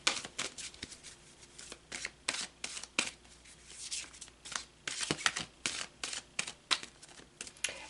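Tarot cards being shuffled by hand, a rapid series of crisp riffling and snapping bursts repeating irregularly throughout, close and fairly quiet with no talking.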